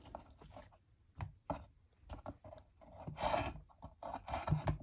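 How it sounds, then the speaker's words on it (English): Knife slicing potatoes on a cutting board for homemade french fries, a string of sharp irregular cuts and chops close by, with clatter and scraping between strokes and no talking. "Slicing the potatoes."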